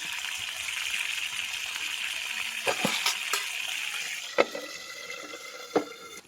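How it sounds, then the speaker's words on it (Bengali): Oil sizzles steadily as green beans and potatoes fry in a pan, with a few sharp scraping and clinking taps from stirring partway through. "এখন আমি শিম এবং আলুগুলাও ভেজে নিব"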